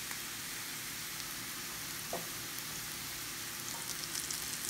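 Wild leeks (ramps) fry in peanut oil and butter alongside mushrooms in a pan, giving a steady, fairly quiet hiss and crackle that continues close by without a break, with no talking.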